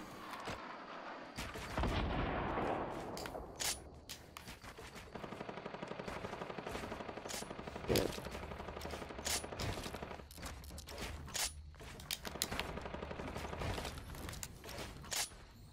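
Gunfire in the Fortnite video game, rapid bursts and single shots cracking repeatedly throughout, loud and dense, mixed with mechanical clatter of building.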